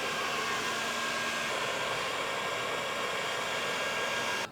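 A heat gun blows hot air, up to 200 degrees, while softening a decorative frieze on a mirror frame during a chalk paint makeover, a steady loud close whoosh that cuts off at the end, with no talking.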